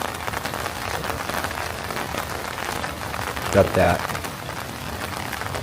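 Heavy rain pours steadily on a rainy day in Oregon, a dense, constant hiss drumming on surfaces close by, with a brief spoken remark partway through.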